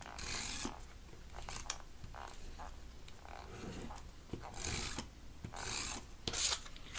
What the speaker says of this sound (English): So I am just going to add my tape.